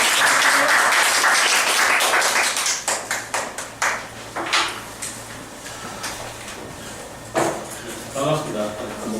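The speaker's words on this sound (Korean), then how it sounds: "큰 박수로서 환영해 주시기 바랍니다." An audience at a lecture workshop applauds to welcome a speaker. The dense clapping is loud at first, then thins into scattered claps that trail off.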